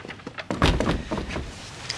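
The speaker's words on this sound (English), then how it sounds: "This dog door opens automatically via a chip in the dog's collar." Automatic dog door triggered by a collar chip opens with a near, mechanical thunk and short sliding rattle, moderately loud, with faint background noise around it.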